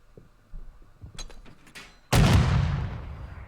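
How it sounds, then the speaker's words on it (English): A grenade in a Call of Duty match goes off as a sudden loud blast, followed by a long rumbling decay, after a few scattered thuds and footsteps. "Pharaoh tanks the grenade."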